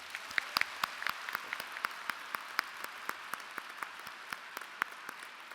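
An audience at a space-themed youth forum in Seoul applauds after a session, with steady, moderately distant clapping from a crowd continuing for several seconds and no voices over it.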